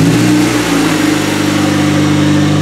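A Ford Focus engine, just fitted with a new alternator, runs loud and steady at close range, a low even hum with a brief rise in revs near the start.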